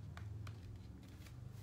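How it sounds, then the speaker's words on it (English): A deck of cards is shuffled in several quick riffling bursts, soft and close, over a low steady background hum with no voices. "like when I'm shuffling the cards"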